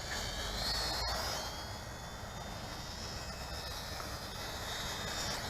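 XK X260 RC quadcopter flying sideways in wind, a steady high-pitched motor whine over constant wind rumble, with one sharp click near the start.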